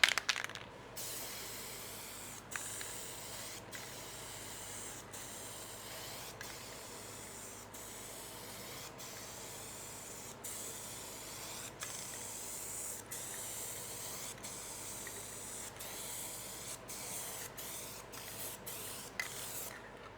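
A spray gun lays a rough tack coat of paint on a 1974 Ford F100 pickup, giving a steady, fairly quiet hiss that runs on and on and is broken now and then by short trigger clicks.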